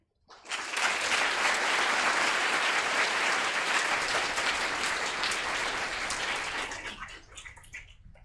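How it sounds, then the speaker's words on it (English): A large audience at a school speech day ceremony applauds a voice choir, a dense, loud wash of clapping that starts abruptly, holds steady for several seconds, then thins out and fades near the end. "Let's give another round of applause to our male voice choir."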